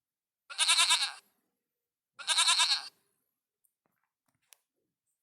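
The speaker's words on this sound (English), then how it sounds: "Goat." A goat bleating twice, two loud close wavering cries about a second each, followed by a few faint clicks and near silence.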